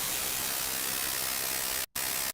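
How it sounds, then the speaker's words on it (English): Steady synthesized white noise for a psychedelic trance layer, a dense full-range hiss at even volume that cuts out briefly near the end and then resumes. "adding some white noise on it."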